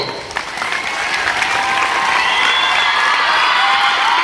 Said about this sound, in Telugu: ఖతూఫా నౌషిన్ గారికి ఒకసారి గట్టిగా చప్పట్లతో